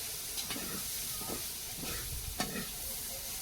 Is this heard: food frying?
yes